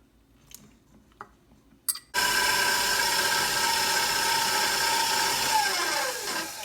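An electric mixer beating batter for a coffee cake made with real coffee, a few light knocks and then a steady loud motor whir that runs on and slowly changes pitch near the end, with no talking.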